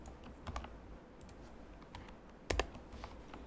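Code is typed on a computer keyboard in quiet, irregular bursts of soft key clicks, with a louder cluster of strokes midway, close and otherwise alone.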